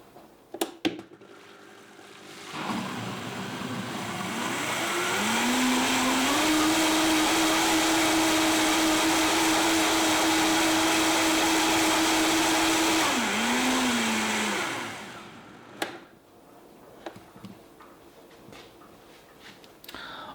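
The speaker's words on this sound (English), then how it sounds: "I don't want to mix it up too much because the blades generate a certain amount of heat" A countertop blender mixes a smoothie with raw honey and milk, spinning up with a rising whine into a loud, steady roar for about ten seconds before winding down, with clattering handling noises around it.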